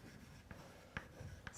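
Chalk writes on a blackboard during a physics lecture, heard as a few faint taps and short scrapes against a low room hum.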